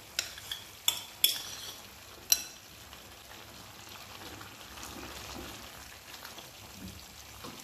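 Potatoes tossed in a pan of pasta with mussels over a high flame: several sharp clanks of metal and food knocking early, then a steady, low sizzling rustle that continues to the end.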